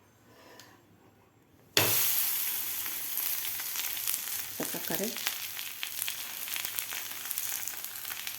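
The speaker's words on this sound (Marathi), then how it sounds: "तर लगेचच आपण हे थापून घेतलेलं थालीपीठ तव्यावर घालून घ्यायचं आहे" Thalipeeth, a mixed-flour Maharashtrian flatbread, starts sizzling loudly the moment it hits a hot griddle, then settles into a steady frying hiss with a brief scraping flutter partway through, and a short spoken remark is heard.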